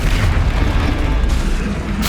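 A Confringo fire spell explodes in the video game Hogwarts Legacy as a loud, dense, rumbling boom that fills the whole stretch without a break.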